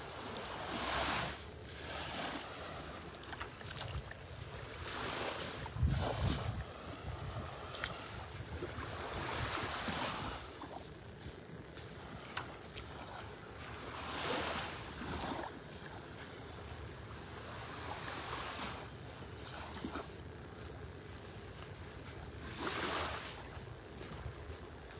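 Gentle waves wash onto a calm beach in North Naples, Florida, with soft surges of surf at intervals under steady wind noise on the microphone; no one speaks.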